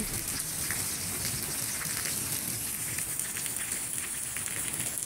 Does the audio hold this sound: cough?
no